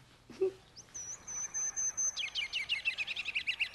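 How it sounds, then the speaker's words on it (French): A bird sings nearby: a clear sustained whistle, then a quick run of bright, repeated chirps, with no other sounds around it. "Écoute, il y a de la musique dans le ciel. Oui, c'est un oiseau"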